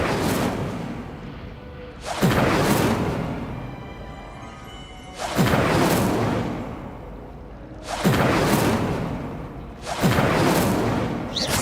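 Incendio fire spells cast in Hogwarts Legacy burst out four times at steady intervals, each a loud whooshing flare of flame that tails off into a crackling roar.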